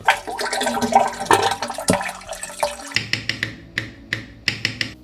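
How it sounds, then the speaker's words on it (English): Milk and condensed milk being poured for homemade ice cream: a close liquid gush that thins into a series of short drips and splashes. "now we're set to put a liter of milk and everything we have of condensed milk"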